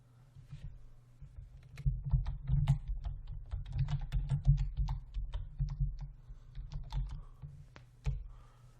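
Typing on a computer keyboard, a close run of soft, irregular key clicks and thumps that continues steadily for several seconds with brief pauses.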